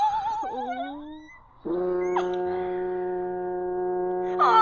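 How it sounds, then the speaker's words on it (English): Short chirping, bird-like calls, then a loud, steady low horn blast starts and drones on without a break to the end. "and now it's the foghorn. We won't be able to hear anything with that thing blatting."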